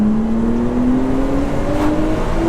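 A Nissan R32 accelerates on a street drive, its engine note climbing steadily and loud throughout, recorded close with no talk.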